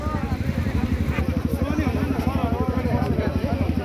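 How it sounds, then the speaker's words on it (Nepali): Several motorcycles idle and putter at low speed during a slow bike race competition, a steady close engine chug with rapid regular pulses running throughout the clip. "स्लो बाइक रेस कम्पिटिसन सुरु हुन आँटेको छ।"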